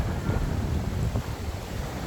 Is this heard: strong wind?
yes